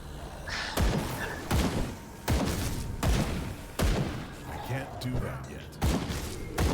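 Gunfire in the action RPG Grim Dawn, sharp shots popping out in a rapid, irregular series over a few seconds, each with a thudding impact, while a voice talks underneath.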